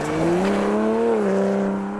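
A 2020 Toyota Supra engine accelerates hard, a loud, close, rising and falling drone with strong harmonics that sweeps up, holds, then eases slightly, heard alone without voices.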